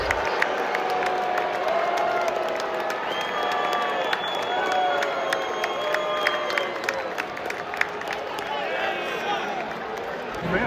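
A large Yankee Stadium baseball crowd roars in sustained disapproval at a batter showboating around the bases, a dense, constant wash of voices and whistles with a commentator talking over it.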